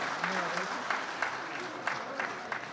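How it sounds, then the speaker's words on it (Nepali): Audience applause at a Nepali talent-search final, a steady wash of clapping at moderate distance with a few sharper claps poking through, while a voice talks briefly over the start. "एकपटक यो उत्साहजनक कार्यक्रमको निमित्त हाम्रा सबै जोडिएका लिगेसीहरूको निम्ति जोरदार तालीको म अपेक्षा गर्न चाहन्छु"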